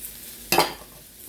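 Carrots, pepper and other vegetables sautéing in oil in a pan for Korean jap chae, a soft steady sizzle broken by one sharp scrape of the spatula with a brief burst of frying.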